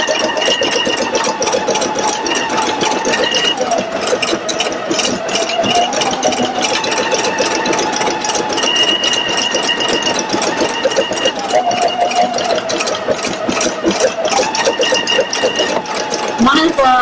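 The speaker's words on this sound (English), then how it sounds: "Now it's going to go ahead and embroider the areas of the design itself." Pfaff Creative Icon 2 embroidery machine stitching an in-the-hoop design, a steady rapid mechanical whir and rattle running throughout at close range, with someone talking over it.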